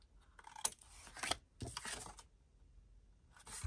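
Paper album page being folded and burnished by hand for a straw-binding craft album: a few sharp crinkling snaps and rubbing swipes in short bursts, close and fairly quiet, with brief pauses between strokes.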